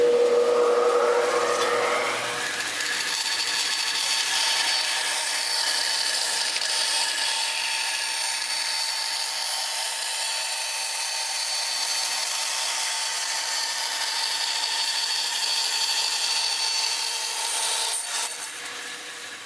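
A bandsaw cuts through wood for a guitar body, a steady high whine and rasping hiss that holds for many seconds after the blade engages, tapering off at the end.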